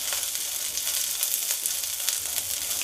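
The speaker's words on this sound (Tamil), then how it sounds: "சேர்த்து இந்த பச்சை கலரே இல்லாமல் நல்ல ப்ரௌன் கலர் வர்ற வரைக்கும் வறுத்துக்கோங்க." Pirandai (adamant creeper) fries in hot oil until browned, giving a steady close sizzle with light crackling and faint stirring, no voices.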